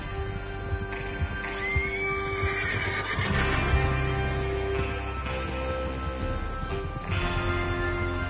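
Horses whinny and neigh repeatedly over a busy Red Dead Redemption game soundscape with background music, with scattered hoof clops and shifting pitch in the calls.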